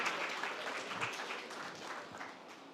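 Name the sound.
audience applause for pitch presenter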